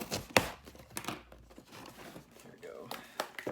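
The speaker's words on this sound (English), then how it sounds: "Let me see if I can cut this open." A taped cardboard coffee box is cut open, with a sharp slicing stroke followed by scattered scraping and crinkling of cardboard and tape, close by, while someone talks quietly.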